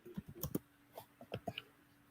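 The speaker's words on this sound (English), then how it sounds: "I'm typing up the member-only page" Fingers tap on a computer keyboard in a quiet room, a faint, irregular run of separate key clicks with short pauses between bursts.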